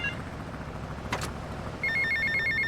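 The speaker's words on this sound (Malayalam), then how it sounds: "സോ അടുത്ത ഫോൺ കോൾ എടുത്ത് നോക്കാം" In GTA Vice City, a phone begins ringing partway through with a loud, regular electronic trill, after a brief click and low in-game engine rumble.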